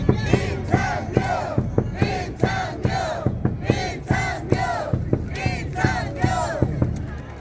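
A large baseball crowd at a Hanwha game in Daejeon chants loudly in unison, with rhythmic group clapping and cheering that keep a steady beat throughout.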